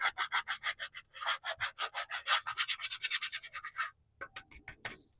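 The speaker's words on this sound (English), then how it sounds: "I am going to take my little finger sander that I use in a lot of my crafting, and I'm just going to give it a rub down" A small finger sander rubs down an old weathered piece in fast back-and-forth strokes, a loud, close, rhythmic rasp that runs steadily for about four seconds before a few scattered scrapes.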